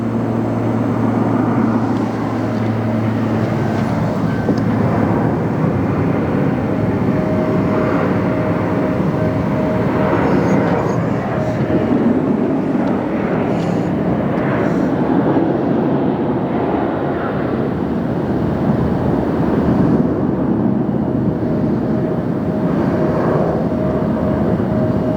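A large jet taxis at LAX with a steady, loud engine roar and rumble that holds constant, a faint whine running underneath it throughout.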